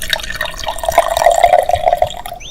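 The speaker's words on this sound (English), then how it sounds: "Well spotted, Mummy Sheep, gasped Daddy Pig, pouring oil into the engine" Oil is poured into a car engine under the lifted boot, a steady liquid glugging and trickling stream running for a couple of seconds, close and clear, with no speech over it.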